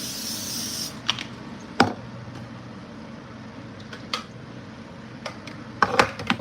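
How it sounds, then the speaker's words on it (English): A close, hissing burst of cooking spray lasting about a second, followed by quiet scraping and light clanks of a pan. "So let's spray this pan."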